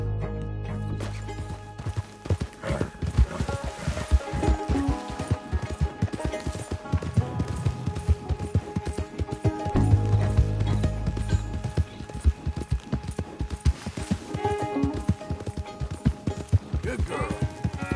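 A horse gallops in the Red Dead Redemption 2 video game, its hooves pounding in a fast, loud, continuous clip-clop rhythm that stays close for the whole stretch, with a brief bit of speech alongside.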